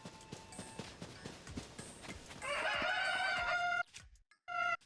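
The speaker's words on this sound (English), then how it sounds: "those chickens are loud" Chickens in the game Zelda: Tears of the Kingdom cluck and crow loudly in the open, with repeated calls layered over light footsteps and hoof-like clopping, rising into a dense burst of bird calls near the end.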